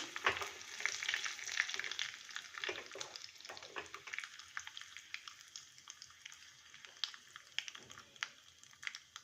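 Curry leaves sizzle and crackle in hot oil for a South Indian coconut chutney tempering, a faint, steady hiss dotted with sharp pops and spits throughout, with no talk.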